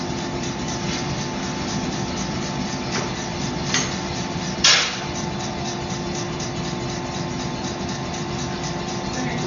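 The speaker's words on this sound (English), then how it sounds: "With power hammer." A power hammer runs in a knife-maker's workshop while blades are prepared for heat treatment. It makes a loud, steady, rapidly pulsing mechanical drone with a couple of sharper knocks and no talking.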